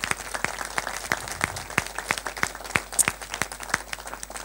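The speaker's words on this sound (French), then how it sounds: "on peut les applaudir aussi" At a French New Year address, a small audience claps in a sparse, fairly quiet run of distinct hand claps, moderately close and irregular in rhythm.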